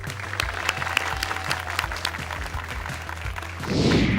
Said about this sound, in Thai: ขอเสียงปรบมือน้องโอ๋ด้วยครับ